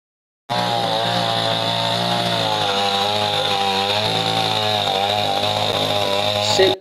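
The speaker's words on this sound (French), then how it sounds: "C'est par cette coup de tronçonneuse des machinistes de génie militaire" Military engineers running a chainsaw during building cleanup, the engine whining at high revs in a loud, sustained buzz that starts abruptly and holds steady.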